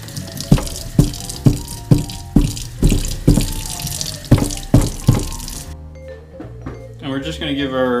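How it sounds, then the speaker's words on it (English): Water from a tap rinses the bottom of a Marineland C-160 aquarium canister filter. The flow is close and loud, with regular sloshing pulses, and then gives way to quieter handling noises near the end. "we're just going to give our bottom of this thing a quick rinse"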